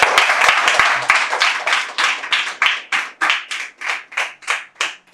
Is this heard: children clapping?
yes